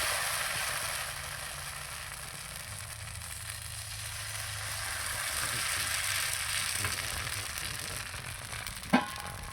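Batter poured into a hot pan sizzles and hisses continuously at close range, a steady frying wash with a single sharp clink near the end.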